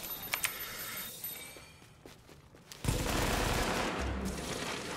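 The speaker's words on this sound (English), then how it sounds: "Someone's got like a sniper rifle or something." Sniper rifle gunfire in the video game The Division, a few sharp isolated cracks early on, then a sudden loud burst of dense noise as a firefight erupts, with no talking.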